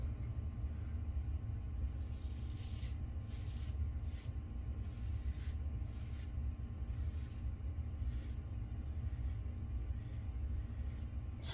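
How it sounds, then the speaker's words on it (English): Repeated scratchy rasping strokes of an Alpha Shaving Works aluminum Outlaw razor dragging through stubble, close up, over a steady low rumbling hum. "It's the sound of a good shave."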